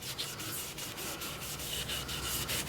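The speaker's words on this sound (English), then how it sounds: "I might have to do a little bit of hand sanding" Hand sanding a wood-turned bowl with sandpaper, a close continuous scratchy rubbing in quick regular back-and-forth strokes, fairly soft and alone.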